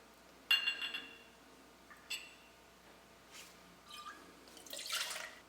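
Coconut rum being poured for a lava flow cocktail, heard as faint, close glassy clinks and brief liquid splashes and drips spaced over a few seconds.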